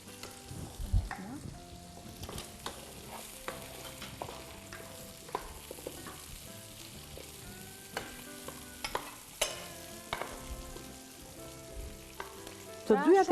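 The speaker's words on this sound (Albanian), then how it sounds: "tani këtu vendosim copat e mishit." Pieces of meat sizzle in a pot with mushrooms and onion, a steady close frying hiss broken by clinks and scrapes of stirring utensils against the cookware.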